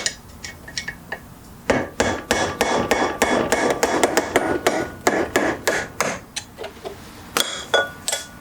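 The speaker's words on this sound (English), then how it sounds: "I'm just gonna grab a hammer and I'm just gonna literally destroy the seal" Repeated sharp metallic hammer blows strike a car's bearing seal in a quick, uneven rhythm, close and loud, with brief pauses between bursts.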